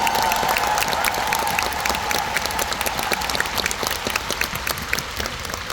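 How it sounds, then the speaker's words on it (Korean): A concert audience gives a steady round of applause, dense clapping filling the hall at moderate level and thinning slightly toward the end, with a brief voice early on. "다시 한번 박수 네, 부탁드립니다"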